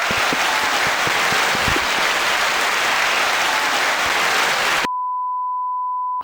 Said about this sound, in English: Our applause button gets stuck on an endless loop